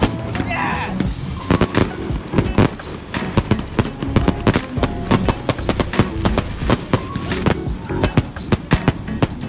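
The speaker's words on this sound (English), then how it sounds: "We're safe, fireworks!" Fireworks exploding near a beach party, a rapid barrage of sharp cracks and booms in irregular bursts, loud and close, with voices mixed in at times.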